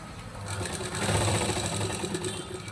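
A sewing machine runs a steady, close, continuous stitch across baby frock fabric from corner to corner, with rapid needle chatter filling the whole moment.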